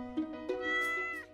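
A cartoon cat in a farming video game gives a couple of short, clear meows, close and alone with no talking over them.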